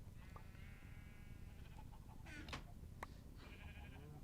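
Sheep bleating in Minecraft, several short wavering bleats in a pen of eight sheep, fairly faint over a steady noisy background with no talking.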